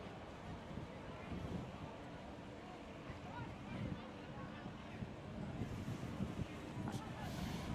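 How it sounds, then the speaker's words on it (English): Fourteen racing boats head out onto the water on race day at Michigan City. A distant engine drone is mixed with gusty wind noise on the microphone, and indistinct voices can be heard. "14 boats coming out."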